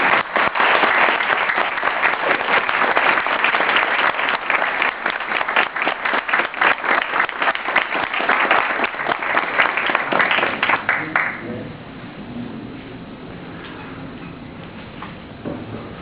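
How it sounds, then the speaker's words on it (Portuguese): Round of audience applause at a political movement meeting, loud dense clapping for about eleven seconds that then drops away to scattered claps and room murmur. "eu proponho uma salva de palmas"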